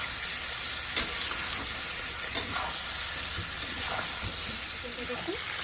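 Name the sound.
spices frying lightly in oil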